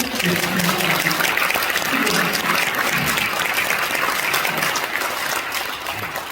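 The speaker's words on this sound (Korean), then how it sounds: "이 한 번 더 박수 하시죠" A church congregation applauds after hymn singing at a memorial hall groundbreaking service, dense steady clapping filling the room at full volume and easing slightly at the end, with faint voices underneath.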